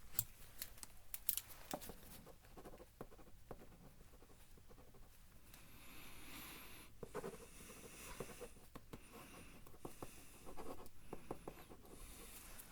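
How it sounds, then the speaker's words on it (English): Handwritten notes being jotted down, a faint, close scratching and tapping of pen on paper in short irregular bursts, with soft rustles between strokes and no speech. "Let me write a few few notes down here."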